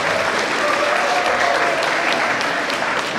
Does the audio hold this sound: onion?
no